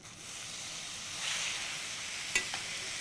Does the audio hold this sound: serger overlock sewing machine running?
no